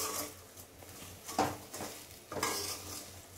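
Semolina and vermicelli being stirred in ghee in a pan, a few soft scraping strokes and light metallic knocks of a spoon against the pan, fairly quiet with a faint sizzle.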